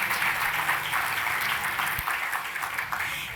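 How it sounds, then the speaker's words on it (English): Sustained applause fills the room at an evening charity benefit gala honoring volunteer lawyers, many hands clapping steadily with a slight fade toward the end. "a round of applause to these individuals"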